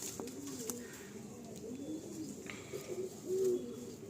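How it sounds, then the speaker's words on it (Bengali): Pigeons at a loft coo in soft, low, repeated phrases, close by, with a louder coo near the end and faint bird chirps in the background. "খুব ছটফটে পায়রা।"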